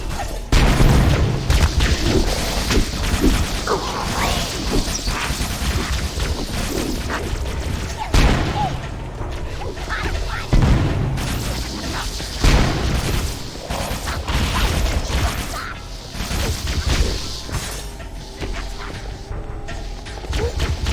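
Grenade explosion in Halo: Combat Evolved, a booming blast amid a dense, continuous barrage of game gunfire and explosions that stays loud throughout.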